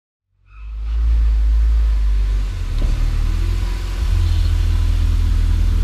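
A Honda Accord starts up and drives off from a track day, its engine rising in a loud close rumble, then pulling steadily with a slight dip and renewed acceleration, with no talking.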